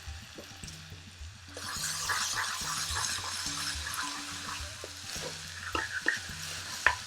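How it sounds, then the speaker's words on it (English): Garlic and ginger paste sizzles and fries in a hot pan over a strong flame for a restaurant-style bhuna chicken curry, a steady hiss with stirring scrapes and clinks throughout. "now in the garlic and ginger paste"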